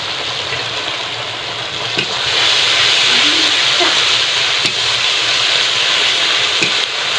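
Spices sizzle and hiss steadily in hot oil in a pan while a tomato-based masala is fried for a jackfruit kofta curry, a loud continuous crackle with a few faint clicks.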